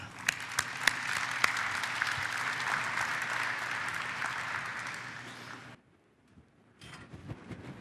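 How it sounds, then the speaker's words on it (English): A conference audience applauds a presenter from the Ohio Oil & Gas Association, with a few sharp claps leading into sustained, fairly distant clapping that cuts off abruptly, then brief quieter room noise resumes. "let's give a round of applause to OOGA and Thomas Stewart"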